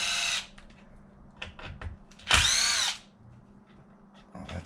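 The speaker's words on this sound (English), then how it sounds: "So what I'm going to do is take all these little bolts out." Power driver backing small bolts out of an Arrma Fireteam RC car during a teardown, several short whirring bursts with one longer run, close and loud against a quiet room.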